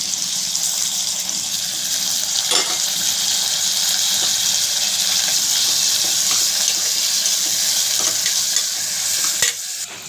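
Curry leaves and chopped tomato fry in a pan with onion, giving a bright, continuous sizzle with occasional stirring scrapes and clicks, steady throughout and close up, with no talking.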